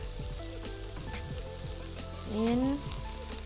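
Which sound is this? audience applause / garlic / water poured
garlic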